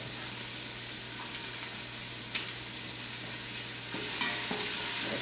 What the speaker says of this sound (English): here we got some sizzle factor going on, that's good